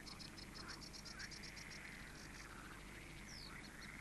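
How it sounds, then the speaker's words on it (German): Frogs croaking at a pond in summer, a rapid rattling chorus of repeated calls running continuously, faint and steady over background hiss. "Kein sauberer Teich und Tümpel ist ohne die braunen oder grünen Quaker denkbar."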